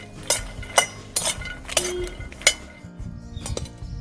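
A spoon stirs makhana roasting in ghee in a pan, giving quick, repeated metallic clinks and scrapes in an uneven rhythm, close and fairly crisp.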